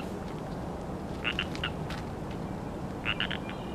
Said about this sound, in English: I guess they got frogs up over here